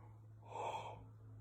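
A person yawns once, a soft breathy swell rising and fading over about a second, close to the mic over a steady low electrical hum.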